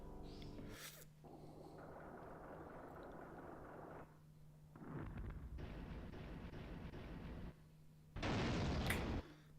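Artillery fire and explosions in the SNES game War 2410, a series of distinct rumbling and crackling blasts, each lasting a few seconds, set against a steady low electronic hum.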